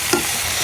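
Curry leaves hit hot oil in a pan with a short, steady sizzle and crackle, fairly close and without voices.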